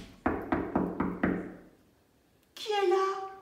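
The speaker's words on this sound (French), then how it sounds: "il frappe à la porte." Five evenly spaced knocks on a wooden door, close and clear, followed by a pause and then a voice speaking.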